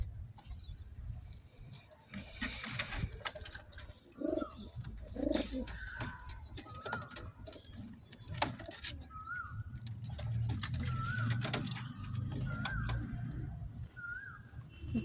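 A single-tailed cheeni pigeon, a male, coos in a series of soft repeated calls, with brief chirps and faint background noise between them.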